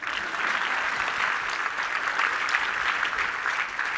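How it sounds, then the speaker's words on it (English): Steady, dense applause from a seated audience at a talk, a continuous even patter of many hands clapping throughout. "Round of applause for new food."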